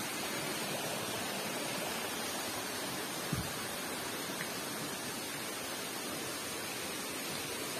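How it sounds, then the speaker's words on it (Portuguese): Water from a stream flows and spills steadily past a nearby drop, a constant broadband rush that stays even throughout with no voices over it. "Eu amo esse barulhinho de água."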